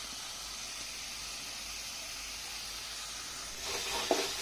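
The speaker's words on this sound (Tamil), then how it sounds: "மஞ்சத்தூள் நன்றாக கிளறி விடவும்." Yellow pumpkin and turmeric sizzle in a pan with a steady close hiss, and near the end scraping stirring strokes come in as the mixture is turned.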